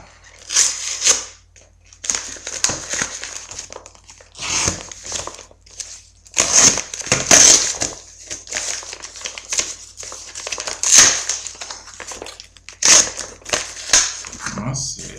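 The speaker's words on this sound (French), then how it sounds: "Je vais ouvrir le paquet." Cardboard and plastic wrapping crinkle and tear in bursts as a parcel holding a Sony compact camera is opened up close, with short pauses between the handling noises.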